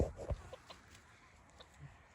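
Chickens cluck in a few short, faint calls on a farm where several adult hens and young roosters are kept, with no talking.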